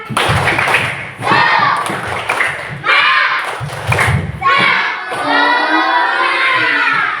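A primary school class performs the rhythmic 'tepuk semangat' spirit clap, loud grouped bursts of hand claps and thumps with children's voices chanting and shouting between them.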